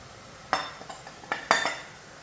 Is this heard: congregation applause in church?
no